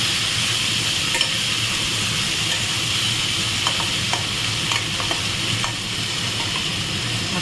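Shrimp and taro stolons fry in a pan with a steady, close sizzle, while a utensil stirs them in scattered light scrapes and taps throughout; no one speaks.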